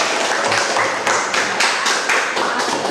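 Hands clapping together in a classroom, a quick run of sharp claps from a group of students, fairly close and steady, with no talk over them.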